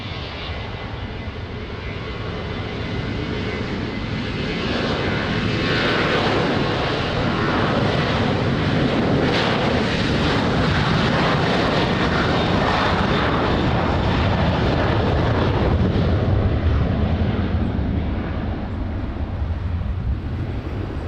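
A passenger airliner takes off at Lisbon Airport, its engines a loud, steady roar that holds close and strong for the full stretch, with no talk over it.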